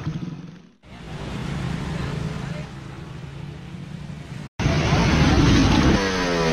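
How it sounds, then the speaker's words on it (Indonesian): Loud, raspy exhaust blare from a student's motorcycle with a noisy aftermarket muffler, held steady with two sharp cutoffs, then a harsher revving burst near the end. "terpaksa mendengarkan suara knalpot bisingnya yang dianggap mengganggu pengendara"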